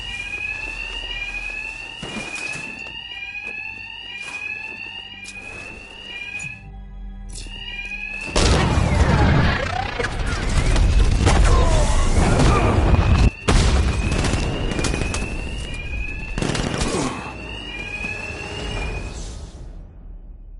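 Alarms blare in a Batman video game, a repeating electronic siren tone that runs loud and continuous under heavy booming impacts and rumble from the game's action.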